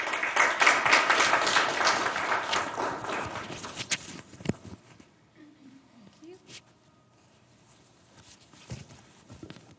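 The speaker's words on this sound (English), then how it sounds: "So let's give a big round of applause to these two speakers." Audience applause for two lecture speakers at a materials lecture, a dense burst of clapping that thins out and fades after about four seconds, leaving a quiet room with scattered small noises.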